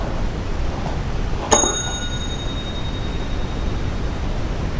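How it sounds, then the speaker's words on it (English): A single bell strikes once with a sharp ring that decays quickly, faint against steady background hiss, with no talking. "You in there ringing bells?"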